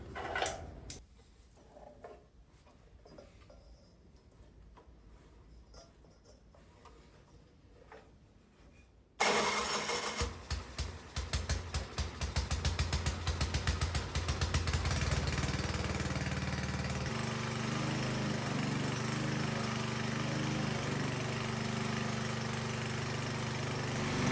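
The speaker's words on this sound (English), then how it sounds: "now we can put the belt back on the engine and fire it up" An old wood splitter's small engine cranks and catches partway through, then runs steadily at a loud, even idle, with quieter clanking and shuffling before it fires up.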